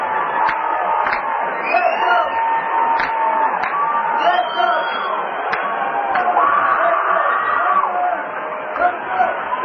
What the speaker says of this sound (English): And the crowd grows restless, as you can hear.